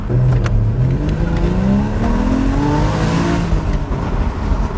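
A 2013 Porsche Boxster engine revs and accelerates, its loud, steady growl rising in pitch through the gears as the car pulls away nearby.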